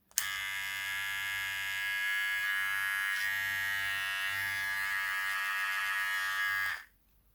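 A Xiaomi Enchen Hummingbird beard trimmer runs alone for about six and a half seconds, a steady, close, high-pitched electric motor buzz rich in harmonics that cuts off abruptly.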